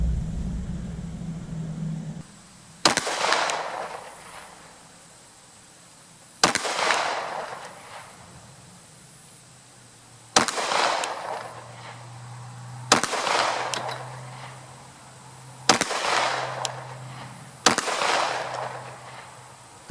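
Pistol with a Holosun 407C red dot fired on an outdoor range at 25 yards: six loud, sharp gunshots spaced a few seconds apart, each with a short echoing decay, no talk between them.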